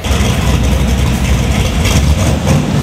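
A Boss Hoss motorcycle with a 540 cubic inch big block V8 of about 620 horsepower, fitted with nitrous, runs steadily and loudly at close range, a deep continuous rumble with no talk.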